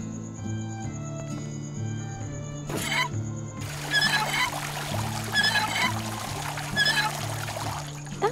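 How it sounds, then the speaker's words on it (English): In a video game, water is pumped out by a lever, with a trickling, pouring burst over a soft looping background tone and a few brief clicks. "I believe the lever there should pump out whatever's in the"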